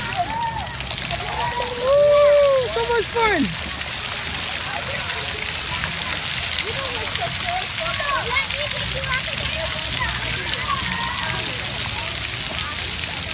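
Water from sprinklers splashes and sprays steadily in the background while excited voices shout and cheer close by.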